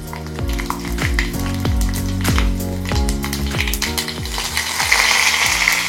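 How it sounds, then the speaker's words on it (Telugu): Tempering seeds with cumin and broken dry red chillies frying in hot oil, a loud, continuous close sizzle with repeated rattling pulses through the whole stretch. "పోపు గింజలు కొంచెం వేగిన తర్వాత ఎండుమిర్చి వేసుకోవాలి."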